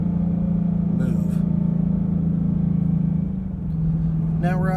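2015 Ford Mustang GT Premium cruising on an open road, its engine holding a steady low drone with road rumble, easing briefly before settling again as a voice talks over it.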